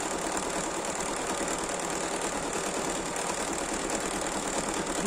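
A Bernina 780 embroidery machine stitches on 100% lightweight linen, a steady, rapid mechanical chatter and hum that runs without a break and without any voices.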